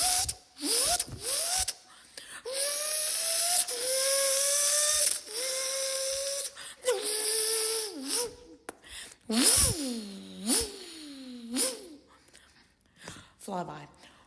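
Voice imitating a Lamborghini Aventador SVJ engine, with rising revving whines, sputters and hissy bursts in uneven waves, close and moderately loud, ending in a whooshing fly-by.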